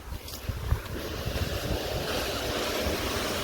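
Water gushes heavily into a well with a loud, continuous rushing roar that stays dense and unbroken from start to finish, with no voices over it.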